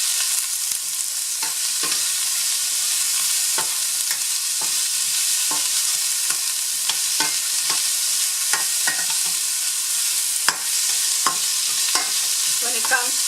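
Onions sauté in a pot for a rice and chicken soup, a bright steady sizzle with frequent light taps and scrapes of a spoon stirring, loud and close, with no one speaking.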